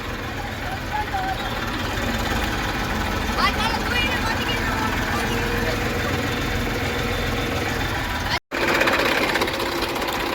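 Tractor stuck in mud, engine running with a steady throbbing, knocking drone that holds throughout, briefly cutting out near the end before returning, with voices of people nearby mixed in.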